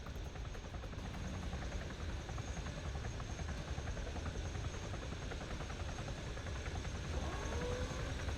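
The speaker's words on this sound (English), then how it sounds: "Load it up and your helicopter takes off for extraction with the team inside." An ARMA 3 helicopter lifts off, its rotor chop and engine forming a steady, dense drone that stays fairly faint and constant throughout, with no speech.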